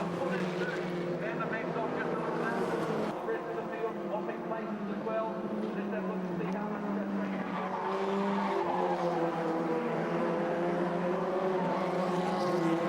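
Formula Ford race cars circulate at Pukekohe circuit, their engines droning and rising as they pass, heard continuously beneath race commentary.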